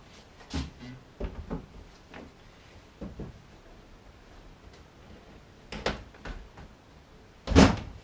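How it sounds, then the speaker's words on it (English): A car door, its inner skin being worked on during repair, is forced shut in a garage, giving a loud metallic thud near the end after several lighter knocks and taps. "the door shut again"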